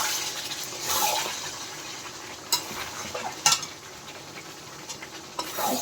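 Chicken frying in oil is stirred in a pan, producing a steady broad sizzle with scraping swishes and a few sharp utensil clicks, close and fairly loud.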